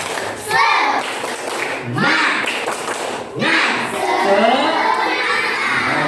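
A children's class in an Islamic education lesson doing a spirit clap and cheer: rhythmic group clapping with loud children's shouts in several bursts, a teacher's voice leading between them.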